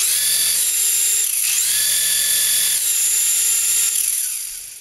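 A small toy infrared helicopter flying, a loud, steady high-pitched whine of tiny motors and rotors close by, wavering slightly in pitch and fading at the end.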